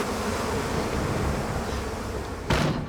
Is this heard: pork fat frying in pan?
no